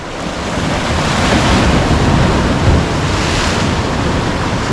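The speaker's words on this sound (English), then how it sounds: "Couple waves coming in." Ocean waves roll into College Cove in Trinidad, California, during a king tide, a loud, close, continuous rush of surf that swells and eases with some wind buffeting, and no voices.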